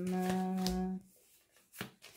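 Oracle cards being drawn and shuffled by hand, a short papery riffle and slide over a low hum, then a brief soft card snap, quiet and close.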